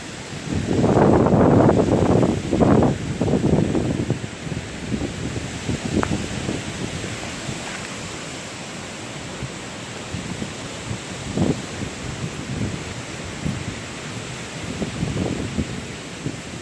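Hurricane Matthew's wind roars in Charleston, heaviest in the opening seconds, then settling into a steady rushing gale with intermittent gusts, likely mixed with driving rain.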